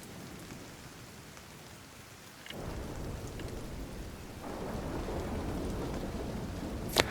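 Steady rain falling in a video game, a dense hiss that grows heavier partway through and swells again later, with a sharp crack near the end; no one speaks.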